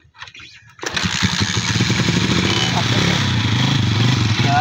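A Yamaha motorcycle engine starts up abruptly after a moment of quiet and then runs steadily and loud close by, with a rough, throbbing idle throughout.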